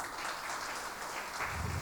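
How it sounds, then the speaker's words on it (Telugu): A small group at a women's church meeting claps steadily together, a continuous soft patter of hands from start to finish with no clear pauses. "క్లాప్స్."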